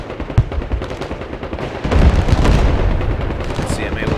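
Mortar rounds and gunfire rumble through a battle in the Broken Arrow video game, a dense run of booming impacts and crackling shots that swells louder past the midpoint and keeps going steadily.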